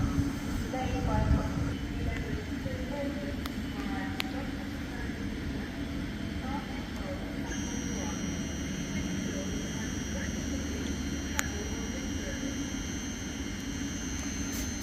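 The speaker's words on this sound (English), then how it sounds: "leaving now is 700-155, working a Thameslink service to Horsham" A Class 700 Thameslink electric train pulls out of Hitchin station on the East Coast Main Line, giving a steady low rumble with a rising motor whine partway through, heard from the platform.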